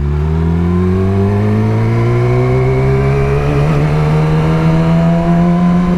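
An engine revs loudly and climbs steadily in pitch, a smooth rising drone held close and uninterrupted.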